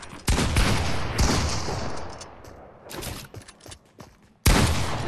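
Loud, close bursts of rapid gunfire from Fortnite come in several volleys that trail off, then a short lull before another sharp burst near the end.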